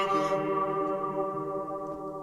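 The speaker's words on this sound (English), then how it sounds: "sweeps and this vocal one shot as well" Sweeps and a vocal one-shot in a remix: a bright, noisy sweep fades out within the first half second over a sustained, harmonic, vocal-like tone that slowly decays.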